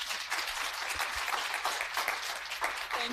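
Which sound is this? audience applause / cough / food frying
audience applause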